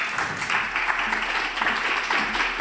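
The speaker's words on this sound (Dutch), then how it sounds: "Geef er een warm applaus." An audience at a Dutch political campaign-history event gives warm applause, an even wash of many hands clapping at moderate volume over a low steady hum.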